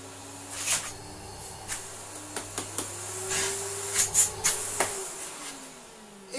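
Miele SGSK3 C3 Silence vacuum cleaner running on its low power setting, a quiet, faint steady hum with scattered soft clicks and taps over it.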